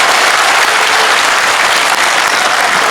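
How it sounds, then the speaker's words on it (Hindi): Loud, steady crowd applause fills the whole stretch, a dense continuous wash of clapping from a large audience at a political rally in Vijayawada. "एक बार जोरदार ताली आपकी बजनी"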